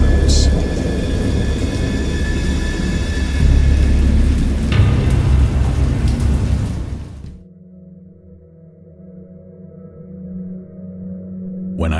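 A heavy thunderstorm roars with rain and deep rumbling thunder for several seconds, then cuts abruptly to a quieter low drone that swells again near the end.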